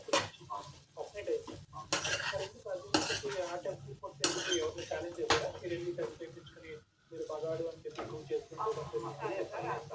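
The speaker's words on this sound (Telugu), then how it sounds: "అన్నీ బాగా కలిపి వేయించుకోవాలి" Chicken kheema being stirred and fried with garam masala in a metal pan, with repeated clanks and scrapes of a spoon against the pan over a low sizzle, under steady talk.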